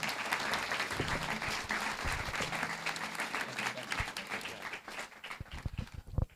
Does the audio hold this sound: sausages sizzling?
no